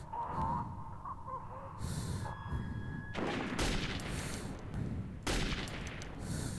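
A single-shot weapon in Metro 2033 fires three sharp, separate shots, each a loud, close crack with a brief tail, set against a quiet, murky background.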